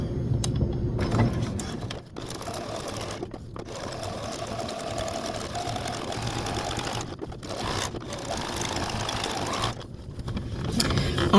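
A sewing machine straight-stitches rickrack trim onto quilt binding, whirring in steady runs with several short pauses and restarts, close up and moderately loud.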